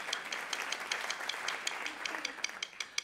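Audience applause at a percussion masterclass with Martin Grubinger, a steady patter of many hands clapping with sharper individual claps standing out, moderately distant and fairly quiet.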